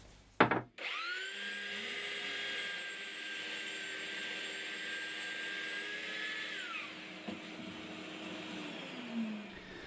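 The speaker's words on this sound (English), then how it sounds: "a little bit of fine-tuning with a belt sander" Belt sander shaping a wooden piece being scribed to fit a ceiling, starting with a sharp clunk, then running at a steady high whine for several seconds before winding down.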